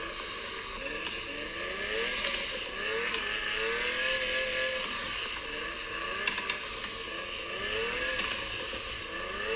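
A DR!FT RC drift car runs on a Gymkhana track circuit, its small motor whirring and rising and falling in pitch through repeated sweeping revs, steady and fairly faint throughout.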